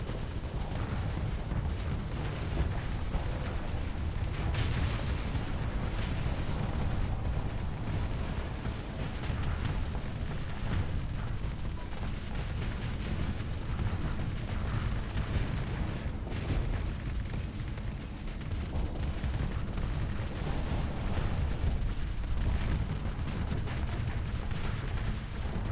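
Artillery in a video game fires in a dense, continuous barrage, with heavy booms and rumbling blasts overlapping loudly and steadily for the whole stretch and no clear pauses.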